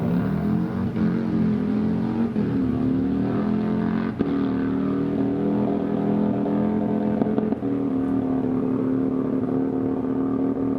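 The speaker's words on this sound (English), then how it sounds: "He's got that bike screaming." A drag racing motorcycle engine screaming at a Wednesday night drag strip event, a loud sustained high-revving whine held for about ten seconds with small shifts in pitch.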